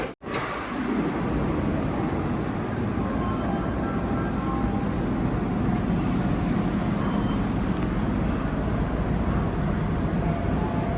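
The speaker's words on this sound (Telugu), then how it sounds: "మళ్ళీ ఇప్పుడు ఇంకొక ట్రైన్ వెళ్తా ఉంది" A Seoul subway train passes nearby outdoors, a loud continuous low rumble and roar that holds steady throughout after a brief quiet start.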